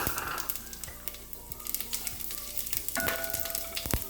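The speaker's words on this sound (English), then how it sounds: "I put all the whole garam masala and saute it for a few seconds" Whole garam masala sautéing in hot oil for pasta, a close crackling sizzle with scattered pops and light stirring scrapes, fairly quiet and without speech.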